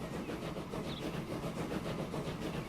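Train running in the video game Transport Fever, a steady rolling rumble with faint rhythmic clatter held at an even level throughout, alone with no talk.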